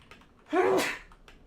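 A single sharp sneeze bursts out, close and loud, lasting under half a second amid an otherwise quiet room.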